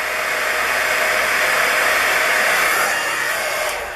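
A heat tool melts embossing powder, giving a steady, loud, continuous blowing whir that holds for several seconds and tapers slightly at the end.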